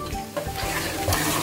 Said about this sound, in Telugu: కలపాలి, నురుగొస్తే.